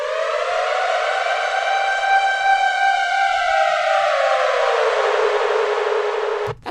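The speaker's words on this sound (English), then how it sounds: "let's find some kind of I'm thinking siren type of sound." A loud synthetic siren sweeps slowly upward in pitch, rising smoothly for about six seconds before cutting off abruptly at the end.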